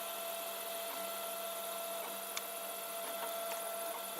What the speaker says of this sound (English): the blue parts getting printed now